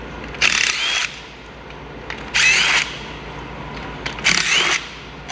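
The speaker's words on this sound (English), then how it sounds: "Now we're gonna pull the bolts out." A power tool driving bolts out of the engine cover on a Harley-Davidson Road Glide, sounding as three loud whirring bursts of about half a second each, evenly spaced with quieter pauses between, close up.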